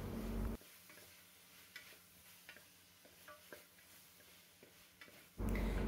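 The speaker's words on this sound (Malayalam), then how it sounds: "1 ക്യാരറ്റ് ചെറുതായി കട്ട് ചെയ്തതും കുറച്ച് കറിവേപ്പിലയും കൂടി ചേർത്ത് ഒന്ന് ഇളക്കി കൊടുക്കാം." Chicken stew with potato, carrot and curry leaves being stirred in a pan: quiet scraping and light ticking clicks of the spoon over a soft sizzle, framed by brief louder bursts at the start and end.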